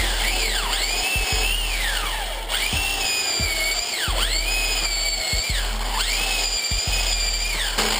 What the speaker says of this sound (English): this type of drill cannot get all the way through there in one shot